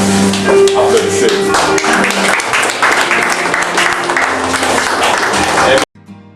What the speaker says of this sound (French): Applaudissez à Jésus